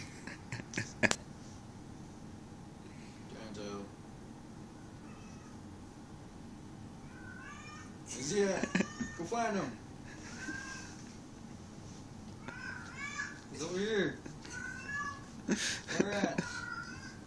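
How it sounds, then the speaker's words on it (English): A cat meows and yowls repeatedly in agitated bursts, mostly in the second half, with some faint voices in the background. "Cat's freaking out."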